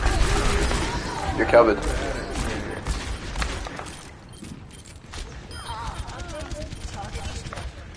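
Bursts of gunfire from the first-person shooter Overwatch, with game effects crackling in the first few seconds under ongoing talk, followed by quieter game sounds.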